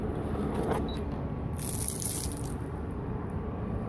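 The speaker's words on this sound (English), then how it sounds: "Pour out the steaming water." Hot water is poured out of a pan from an induction cooktop, a brief splashing gush that rises and then stops over a steady background hiss, with no speech.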